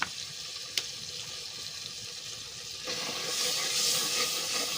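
Chillies frying in a pan, a quiet steady sizzle and hiss that swells louder near the end, with a faint clink near the start and no talking.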